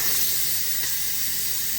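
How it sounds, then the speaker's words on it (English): Steady, loud hiss of steam venting from a pressure cooker valve, continuous and close, with no talking. "allow the steam to go out."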